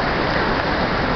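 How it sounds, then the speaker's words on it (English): Water rushes steadily in a river or stream below a waterfall, a continuous broadband wash that stays close and loud throughout with no breaks. "Maybe this is more of a stream."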